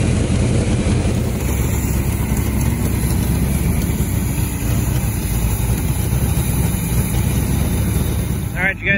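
A race car engine idles at Toledo Speedway while its idle mixture is adjusted, a loud, steady, close rumble that holds throughout, with a brief rise in pitch near the end.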